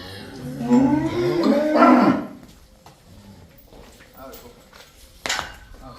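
A small Jersey cow at a cattle farm gives a loud, drawn-out moo near the start. Quieter farmyard knocks and a sharp clatter follow later.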